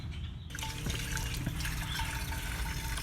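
Tap water trickles steadily into a pump sprayer container being filled to about one gallon, a continuous close pouring wash that begins after a brief quiet moment.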